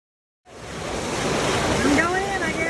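Inside a cave reached by wading through freezing water, a waterfall pours down in a dense, continuous roar that starts abruptly and holds steady, with a faint voice briefly audible beneath it.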